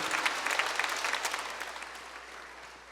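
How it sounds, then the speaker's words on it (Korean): A church congregation applauds during a sermon, a dense round of clapping that starts strong with some crisp individual claps and gradually tapers off toward the end. "이분들 우리 신뢰와 감사와 존경의 박수 한번 드립시다."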